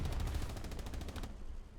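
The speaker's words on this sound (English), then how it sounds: "that's friendly artillery" Friendly artillery fire in a World War II shooter match at Carentan, heard as a quick burst of rapid, distant booming shots that fade out over under two seconds.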